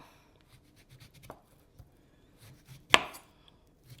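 A knife peels a garden guava in a quiet room, with soft scattered scrapes and one sharper cut near the end, no talking.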